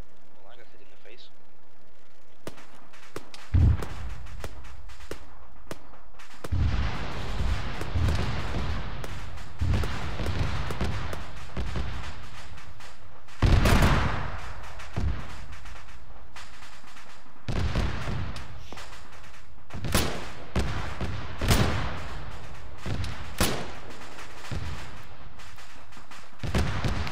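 Gunfire in the Arma 3 military shooter: scattered loud shots and bursts spread across a long stretch, mixed with people talking during a firefight.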